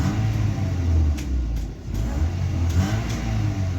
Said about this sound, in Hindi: जैसे ही लड़के एक्सीलरेटर पैडल प्रेस कर रहे हैं ना, गाड़ी भी उसी तरह जो है एक्सीलरेट हो रही है